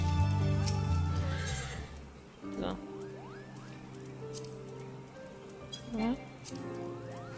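A horse mount in the online video game Final Fantasy XIV whinnies, with short neighs around the middle and near the end over game music, while someone talks at the start.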